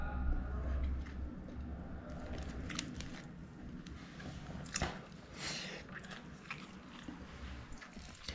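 Someone eats egg biryani by hand, with soft squishing and chewing bites close up and steady over a low background hum throughout.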